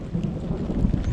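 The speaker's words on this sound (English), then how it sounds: "just thundering and raining" Thunder rumbles low and continuous beneath steady rainfall in the mountains, a short stretch of dense, close weather noise with no voices.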